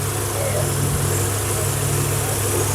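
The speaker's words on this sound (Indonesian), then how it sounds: "untuk mendengarkan suara mesin" A 1990 Honda Grand Civic engine idling close by, a steady low hum with an even mechanical drone and no revving.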